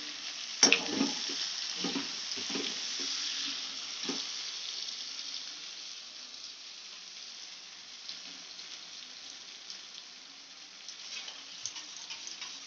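Cornflour mixture stirred into chilli chicken sauce in a pan, with a steady soft sizzle and a few light spoon scrapes early on, fading to a quiet simmer.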